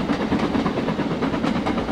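An L1 British steam locomotive in the Trainz video game rumbles steadily along the track with a continuous loud chugging and rail clatter, alone without voices.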